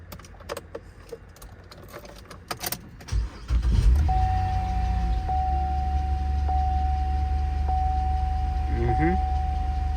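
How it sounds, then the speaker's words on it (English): A 2008 Buick Enclave engine cranks and starts, then settles into a steady, loud idle hum with a faint high whine, after some clicks and handling noises at the start. "the car starts right up"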